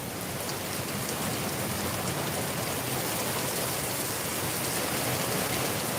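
Heavy monsoon rain pours down steadily in Darbhanga, a dense, continuous hiss of drops drumming on surfaces, loud and unbroken from start to finish with no voices.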